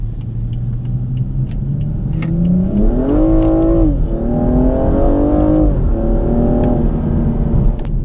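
A BMW M235i with a 3-litre engine accelerating from inside the cabin, loud smooth engine tone rising through the revs in two pulls with a gear change between, steady road rumble beneath and no talk.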